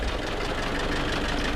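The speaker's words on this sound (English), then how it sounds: "see how the engine kind of picked up." A 1913 Hupmobile engine runs just after a hand-crank start, a steady close, rough chugging idle with an even knocking beat and no voices.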